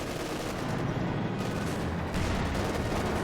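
A Katyusha rocket barrage in the strategy game Company of Heroes 2, heard as a dense, continuous roar of overlapping blasts and rumble across the whole stretch, fairly quiet overall.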